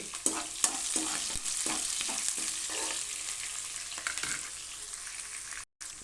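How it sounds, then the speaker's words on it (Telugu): Green chilli pieces sizzling in hot oil in a tempering for upma pesarattu, a steady close frying crackle with small pops throughout and no talking. "ఈ పచ్చిమిరకాయ ముక్కలు బాగా వేగనిద్దామండి"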